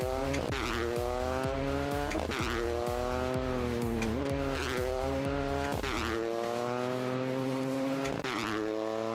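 Racing video game car with engine revving in repeated rising and falling gear pulls, broken by tire squeal and skidding as the e-brake is pulled, loud and continuous, with no talk.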